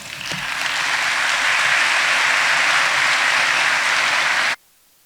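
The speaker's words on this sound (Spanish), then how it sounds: "un aplauso para ellas" An academic audience at a university lecture gives a sustained round of applause, a dense steady clapping that swells in the first second, holds loud and even, then cuts off abruptly near the end.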